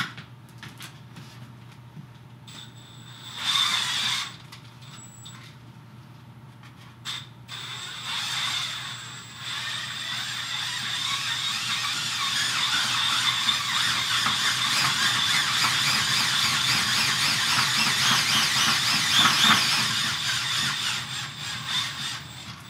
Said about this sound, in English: Let me spin it a few more times.